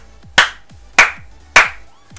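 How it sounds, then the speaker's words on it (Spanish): Three sharp, close hand claps from a single person, evenly spaced about half a second apart, each with a short ringing decay, in an otherwise quiet room. "Vamos a aplaudir,"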